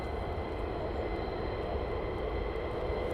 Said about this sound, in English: I think I can see another F-35 inbound.